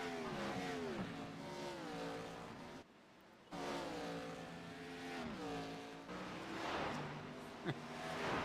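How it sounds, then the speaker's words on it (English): Race car engines drone and shift pitch as cars pass through the esses at Watkins Glen during an All-American Cup Series race, with a commentator talking over the steady roar. "these cars roll up the S's here"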